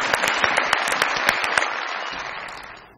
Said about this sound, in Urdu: بہت ساری تالیاں ہمارے چاچا کے لیے